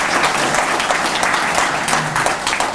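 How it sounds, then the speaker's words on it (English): Loud, dense audience applause fills a hall at a medical devices grant event as a CEO comes forward, sustained steady clapping from many hands throughout. "Give him a round of applause, please."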